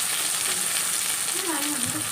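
Close, continuous sizzle of eggplant frying in hot oil, with a light stirring sound in the pan.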